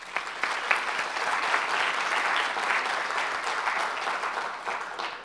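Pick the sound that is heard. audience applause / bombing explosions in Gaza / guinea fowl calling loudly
audience applause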